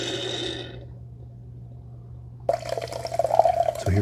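A Ninja Thirsti soda maker dispenses water in 6-ounce increments: a stream splashes into a cup, stops abruptly, then after a quiet pause the pouring resumes with a fuller, gurgling fill sound.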